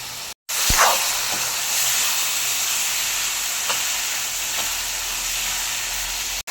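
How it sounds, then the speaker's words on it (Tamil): Tomatoes and onions sauté with salt in oil for a mutton curry. A steady, loud hissing sizzle follows a brief cut at the start, with a few faint stirring scrapes. "தக்காளி வதங்குறதுக்கு கொஞ்சம் உப்பு போட்டு நல்லா தக்காளியை வதக்கணும்"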